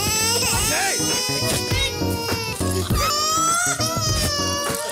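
A recorded baby's cry plays loudly as a cue in a reality-show game, a continuous wailing infant cry that fills the whole stretch with rising and falling sobs, with no pauses.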